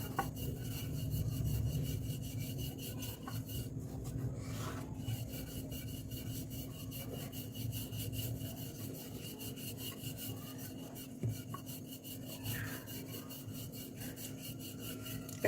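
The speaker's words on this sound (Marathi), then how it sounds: "त्यामुळे दोन्ही साईडने पोळी लाटून घ्यायची." A rolling pin pressing out mango puran poli dough: soft, continuous rubbing and rolling on a board, low and steady, with no talking.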